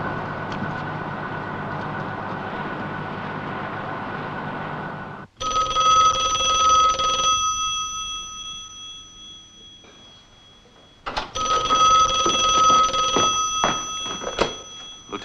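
An old-style telephone bell rings loudly in a 1963 police office, two long bursts of ringing separated by a pause, with no one speaking.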